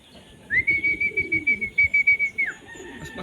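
A racing pigeon lands at its loft in Muntinlupa, Manila. A steady high whistling tone sounds for about two seconds over quick rhythmic fluttering pulses, up close with no talking.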